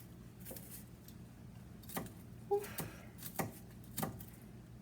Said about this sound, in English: I've got the half the onion kind of cut up into these small little squares, just like the green pepper